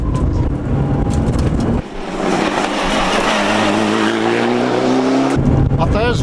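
A Mitsubishi Evo 7 rally car running on local pump fuel roars loudly past on a stage of the 2003 Rally of the Lakes, engine note swelling and fading with tyre noise, while a commentator talks throughout.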